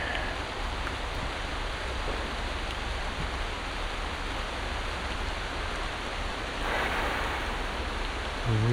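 Steady rain falls on the Appalachian Trail, a constant dense hiss of drops close around, growing slightly heavier near the end, with no talking.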